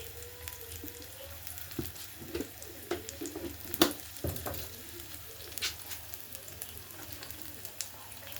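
Prawns frying in hot oil with chili powder in a home kitchen, a steady sizzle with scattered clinks and spoon stirring, moderately close and unaccompanied by talk.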